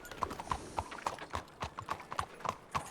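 Horse hooves clip-clop in a video game, a steady, even trot of sharp knocks repeating several times per second, moderately loud with no voices over it.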